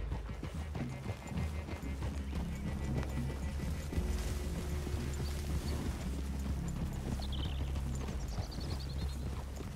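Horses clip-clop at a steady walking pace in the video game Red Dead Redemption 2, the hoofbeats moderately close and continuous over a low outdoor ambience.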